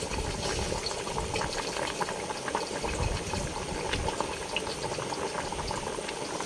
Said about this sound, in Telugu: చూసారా పులుసు అనేది ఎలా మరుగుతుందో